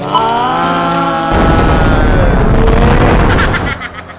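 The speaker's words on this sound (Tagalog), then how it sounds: "Sumabog na!" A loud explosion sound effect on the TV variety show Eat Bulaga booms and crashes for a few seconds after a sustained musical tone, then the rumble fades out.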